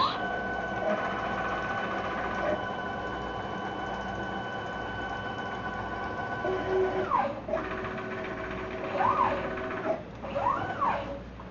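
A CNC router gantry under Mach 3 control traversing from its homed position to the workpiece center point, with steady stepper motor whine holding pitch, then short rising and falling tones as the axes start and stop.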